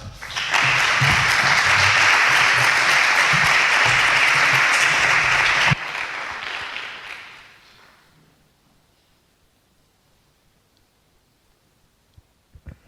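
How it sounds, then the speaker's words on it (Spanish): An audience applauds a speaker at a design talk, a loud, dense burst of clapping for several seconds that thins and fades out, followed by near-silence with a faint sound at the end. "dadelle un gran aplauso"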